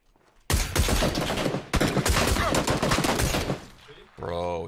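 Dense, loud automatic gunfire in the video game PUBG, two long sustained bursts back to back that fade out, followed by a short tonal game sound, with no talk.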